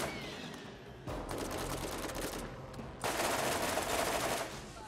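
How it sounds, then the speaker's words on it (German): Rapid automatic gunfire from a heavy machine gun in the shooter game Borderlands, sustained bursts that swell louder in the final seconds, with no talk over it. "das ist eins von den fetten Maschinengewehren"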